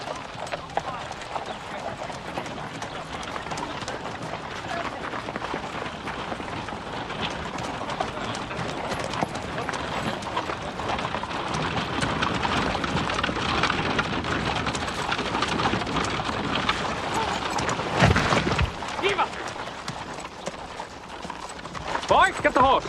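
A horse gallops with rapid, rhythmic hoof clip-clops amid heavy rain-like noise, steady and fairly loud throughout, with people talking over it at times.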